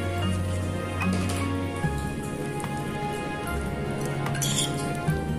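Curd is mixed into a broccoli salad in a bowl, giving soft clinks and wet stirring and scraping sounds that continue steadily, with faint background hum.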